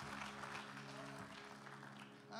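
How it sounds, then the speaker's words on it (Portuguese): Applause from a church congregation fills the space in a steady, dense wash of clapping that carries on without a break, faint overall. "Dá uma salva de palmas pro dia, gente."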